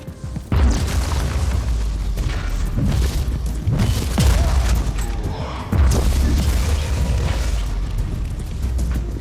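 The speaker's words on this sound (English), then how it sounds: "Looks like there's some sort of bombarding thing" Bombardment explosions in the video game Warhammer 40,000: Inquisitor - Martyr land in a loud series of heavy booms and blasts over a continuous rumbling battle din, with no talking.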